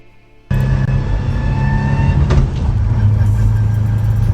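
Straight-cut gear transmission whining steadily over a loud running engine, a sustained tonal whine layered on a rumbling drone that starts abruptly and holds for several seconds.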